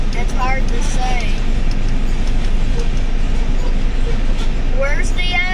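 A long Union Pacific grain train rolls past on a railway line, a steady, loud, continuous rumble and rattle of freight cars holding throughout without letup.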